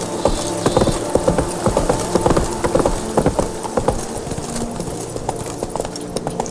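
Roach the horse trots along in The Witcher 3, her hooves landing in a steady, close clip-clop rhythm over soft game ambience for the whole stretch.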